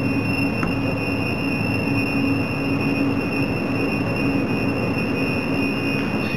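A Czech 15T tram, car 9217, sounds its alerts across the whole car, with a steady electric buzz and tones, continuous alarm signals droning evenly throughout at close range.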